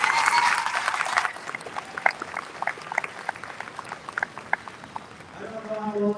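A burst of loud audience applause quickly thins into scattered individual claps, then gives way to a voice starting to speak at the end.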